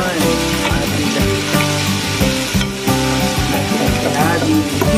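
Sliced onion sautés in a hot pan during home cooking, giving a loud, continuous sizzle and crackle with no break, close to the microphone.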